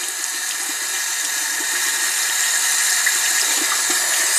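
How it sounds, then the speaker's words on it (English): A tap runs steadily as a paint brush is rinsed beneath it, a loud continuous hiss of flowing water with faint splashes, close by and with no voices. "Keep running the brush under the water."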